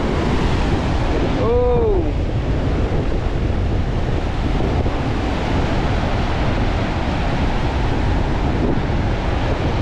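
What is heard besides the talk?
big waves crashing during typhoon Carina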